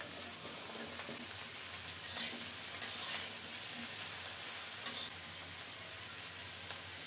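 Vegetables frying in a pan, a quiet, steady hiss and sizzle with a few short bursts of stirring, faint and continuous throughout.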